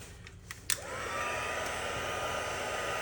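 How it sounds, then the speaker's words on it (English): Heat tool blowing hot air to dry rubbing alcohol and ink on vellum; after a few small clicks it starts up into a steady, fairly quiet whooshing hum that stays constant. "now we're going to use our heat tool"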